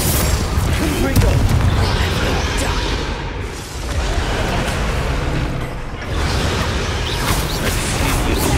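Confringo explosion spell cast in the video game Hogwarts Legacy, a loud booming blast with crackling debris amid chaotic combat noise, followed by a second burst, with voices talking over the action.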